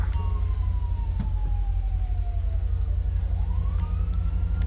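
An ambulance siren in the video game GTA 5 with the LSPDFR mod, a sweeping wail that slides down and then climbs again over a heavy engine rumble and steady low drone, with no talking.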